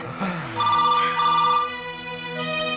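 A telephone rings indoors in a Hindi TV serial scene, a steady electronic trilling tone sounding loud and close for a couple of seconds with no voices over it.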